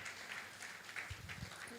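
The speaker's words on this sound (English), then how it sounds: "Please keep clapping." A summit audience claps steadily at a business gathering, a continuous wash of applause from a crowd, moderately distant, with a voice briefly heard over it.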